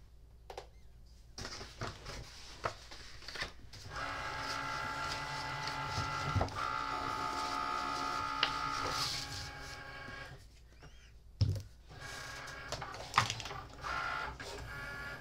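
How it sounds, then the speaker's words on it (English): A cutting machine slices paper flowers in fast cut mode, giving a mechanical whir with rapid buzzing passes and short pauses, punctuated by clicks and bumps. "These should cut pretty fast. I'll put these in fast cut mode."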